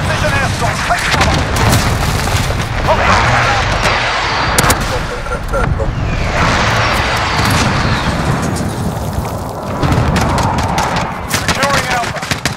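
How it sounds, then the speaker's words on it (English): Airstrike explosions in Call of Duty: Modern Warfare, a Domination match on Hackney Yard on Xbox One. Heavy booms and rolling gunfire rumble continuously for several seconds, with sharp bursts scattered throughout, and voices are audible amid the chaos. "Enemy precision airstrike. Take cover."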